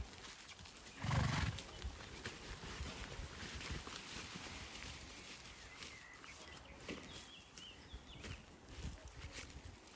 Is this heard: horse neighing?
yes